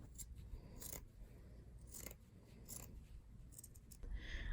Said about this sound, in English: cut slits from the bottom of your shirt to the line marking the bottom of your bag